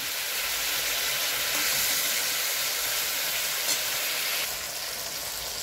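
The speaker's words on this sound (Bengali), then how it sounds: "লালচে লালচে করে ভাজছি" Chicken pieces marinated in lemon sizzle steadily in a hot pan, a bright, even crackle holding for several seconds with no voices.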